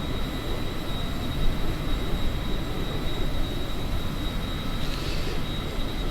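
Inside a Cessna Citation jet in flight from Singapore to Jakarta, the cabin fills with a constant, loud broadband roar and a steady high whine, even and unbroken throughout, with no voices.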